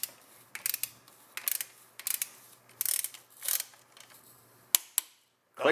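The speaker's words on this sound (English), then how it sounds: "then we'll grab our torque wrench and we'll actually torque it on" A torque wrench tightens a part on a DSG transmission during a fluid change, giving a run of quick, close ratcheting clicks in short bursts, followed by a couple of sharper, isolated clicks near the end.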